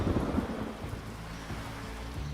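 Steady heavy rain hisses across the whole band while low thunder rumbles underneath, a dense, continuous storm texture with no voices.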